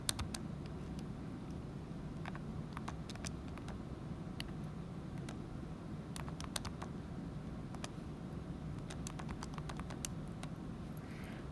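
Quick light button taps on a calculator, scattered clicks spread unevenly over a steady low room hum, with no talking.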